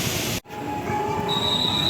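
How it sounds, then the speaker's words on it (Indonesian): An economy-class K3 passenger train car with K5 bogies runs along the Jakarta–Yogyakarta line, a steady rolling rumble with a sharp dropout and then a thin wheel squeal rising over the clatter. "Ini K3 atau kereta ekonomi yang bisa dipacu hingga kecepatan 100"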